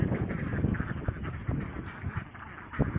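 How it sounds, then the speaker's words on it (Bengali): Farm ducks quack in scattered, close calls over a busy background of shuffling and movement, with short bursts repeating irregularly. "আমার হাঁসগুলা দেখুন"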